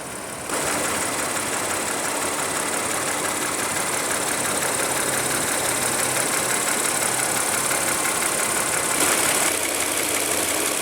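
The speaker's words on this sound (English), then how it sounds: "Under the hood here, we have a 3-liter supercharged V6 that makes 333 horsepower" A 2016 Audi A7's 3.0 L supercharged V6 idles at a steady, even hum, close and constant from just after the start to the end, with no voices.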